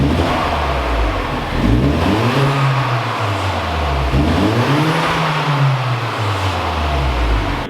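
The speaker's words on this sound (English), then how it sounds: "I took a couple clips when I pulled this thing in of just like the stock exhaust system" A Genesis car on its stock exhaust system revs up and settles back several times on a cold day, the engine note rising and falling in smooth swells, close and loud.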